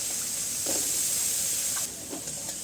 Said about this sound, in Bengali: এটা ভাজা হোক